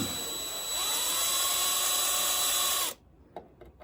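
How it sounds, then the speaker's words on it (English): A power drill with a small bit bores into a hard, stuck bolt on a Honda CL350/CB350 motorcycle, a steady high whine held close for about three seconds, then it stops abruptly and a few faint clicks follow. "I'm going to start with just a really small drill bit to see if I can get this started here."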